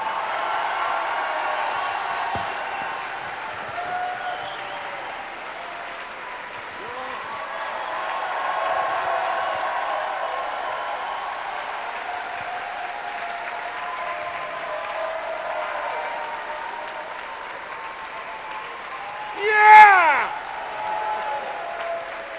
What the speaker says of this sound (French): je vous demande de me faire 10 ans d'applaudissements, 10 ans de fougue et de hargne pour Monsieur Richard Dean Anderson